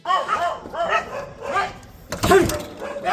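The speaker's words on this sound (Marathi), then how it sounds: "येथील कैलास जाधव यांच्या घराजवळ असलेल्या एका बलदंड बिबट्याला पाळीव कुत्र्यांनी पळवून लावल्याची घटना" Pet dogs bark in a run of sharp, repeated barks near a house, chasing off a large leopard; a louder burst of barking comes toward the end, with no talk.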